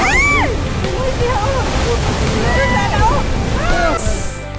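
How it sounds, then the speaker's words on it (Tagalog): Strong surf breaking at Bugnaw beach in Anda, Bohol, a steady loud roar of crashing, sloshing waves, with voices talking and calling over it throughout. "sobrang lakas ng alon"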